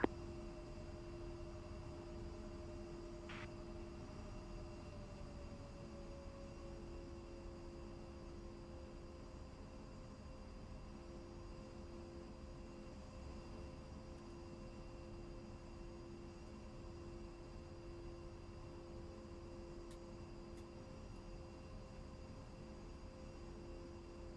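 Steady engine drone of an A-10 aircraft taxiing in the DCS flight simulator, a constant low hum with a faint whine and no breaks, quiet and unchanging throughout.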